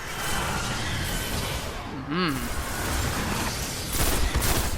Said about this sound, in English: This is a pulse rifle that I'm using now.